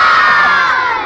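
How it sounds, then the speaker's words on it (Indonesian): A group of village children in Pandeglang shout together on cue in one loud, unified burst of voices close by. "Sekarang semuanya teriak gasjon ya."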